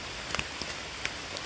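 Light rain patters on a mountain trail on Mount Burangrang, a soft steady hiss with a few faint sharp drips landing close by.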